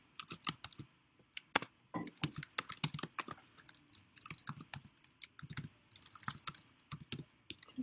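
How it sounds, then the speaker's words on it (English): Rapid typing on a computer keyboard at a table, a steady run of close, crisp key clicks with brief pauses, no voices. "It's so hard to type at this table."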